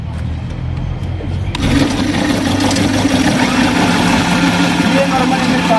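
A hybrid bike with an electric motor and batteries, built by government school students, hums at a low idle, then grows louder and runs steadily with a buzzing, continuous drone, with voices faintly mixed in.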